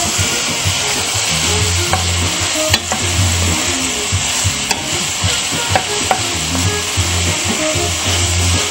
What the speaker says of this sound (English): And then what we're going to do, we're going to stir them a little.